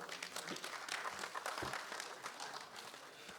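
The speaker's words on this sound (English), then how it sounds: "A round of applause for her." An audience at an engineering society lecture applauds a speaker, a soft, even patter of many hands clapping that continues steadily and sounds faint and somewhat distant.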